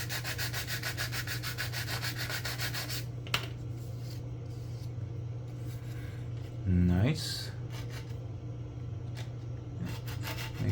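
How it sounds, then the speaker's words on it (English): Close, scratchy sanding of plastic body parts from an AMT 1/25 scale 1968 Shelby GT-500 model kit, a brisk rubbing burst at first, then quieter intermittent strokes, with a brief spoken remark. "Make sure I'm sanding stuff that needs to be sanded and nothing more."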